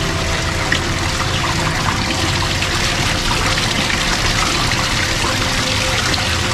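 Spring water pours steadily from an outlet at a health spring resort in San Miguel, Bulacan, a loud continuous splashing flow close by with no pauses.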